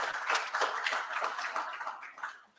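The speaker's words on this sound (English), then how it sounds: "Give her a round of applause for her dedication." Warm applause at a ceremony for a 14-year-old student, at the signing of an agreement with the SVG Zero Hunger Trust Fund: a steady patter of many hands clapping together, moderately loud at first, then thinning and fading away toward the end.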